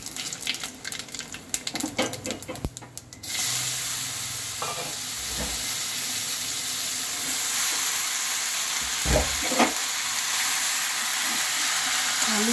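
Whole cumin seeds, dried chillies and bay leaves hit hot oil for a bottle-gourd and fish-head curry: a few seconds of clattering give way to a sudden, loud, steady sizzle that carries on to the end, broken by occasional soft knocks.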